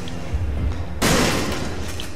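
A single sharp gunshot bursts out in the Resident Evil 7 video game on Xbox One, a loud, sudden bang midway that rings off into a low, rumbling game ambience.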